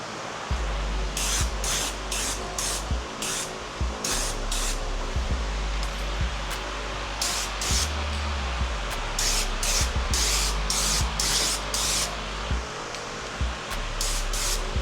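An engine block being spray painted, with repeated bursts of hissing aerosol spray in short pulses over a low background rumble, close and fairly loud.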